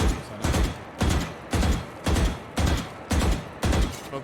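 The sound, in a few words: gunfire while strafe resetting in the video game Valorant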